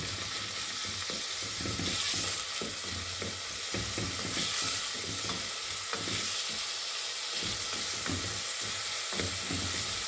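Garlic and onion sautéing in a pan, a dense steady sizzle with rhythmic spatula scraping and stirring strokes close by, no voices.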